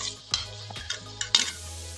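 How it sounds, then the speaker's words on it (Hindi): Masala and tomatoes stirred with water in a pan over a medium-to-low flame: a low sizzle runs underneath while a spoon scrapes the pan in several separate strokes, close and moderately loud. "दोबारा से इस पानी के साथ इस मसाले को मिक्स करेंगे और 2 मिनट या 3 मिनट तक इसको मज़ीद और मीडियम टू लो फ्लेम पे कुक करेंगे"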